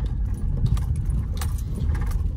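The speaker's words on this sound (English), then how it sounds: "The ashtray's doing a little rattle down there over the gravel" A small ashtray rattles inside an Oldsmobile as it rolls over gravel, giving loose, jangly clatters over a steady low engine and road rumble.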